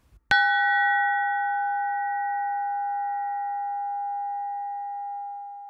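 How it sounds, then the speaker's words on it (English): A monk bell sound effect: a single clear struck ring that starts abruptly and then sustains as a long, pure, slowly fading tone, heard alone. "Monk Bell"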